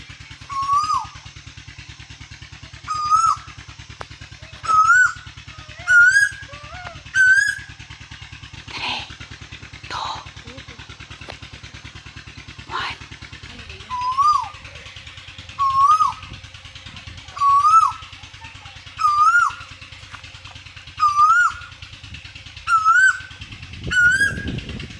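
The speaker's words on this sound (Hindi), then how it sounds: "यहाँ कोयल की चार्मिंग सुने" An Asian koel calls repeatedly at a farmhouse, its rising whistled notes clear and fairly near, repeated in steady series with short pauses, over a continuous low engine or motor hum and some faint background knocks.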